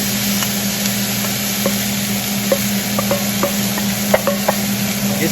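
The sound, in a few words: vegetables being sautéed in butter in a pan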